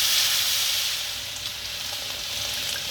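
Hot water poured into a pot of pea stew, a steady hissing rush of pouring liquid that holds evenly from start to finish, close and fairly loud, with no voices.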